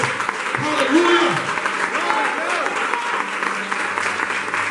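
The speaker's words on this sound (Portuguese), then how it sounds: "Você pode aplaudir o Senhor, querido." Congregation applause during a church service, sustained clapping filling the room while a voice speaks and exclaims over it.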